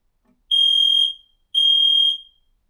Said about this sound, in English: We just need to pause the video while I check my smoke alarms.